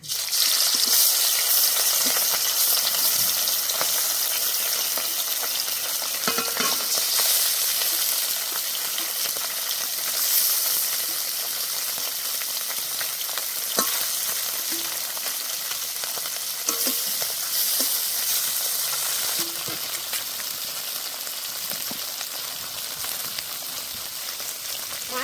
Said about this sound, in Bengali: এবার যে কটা আছে সেই কটাও ভেজে নেব